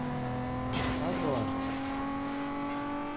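A racing car engine in Need for Speed Underground 2 roars steadily, then surges loud with a rising rev and sweep as it passes, tonal engine harmonics throughout, then settles back to a sustained drone.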